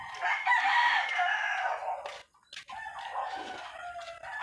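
Chickens at feeding time, a close stretch of clucking and squawking that breaks off briefly and then resumes.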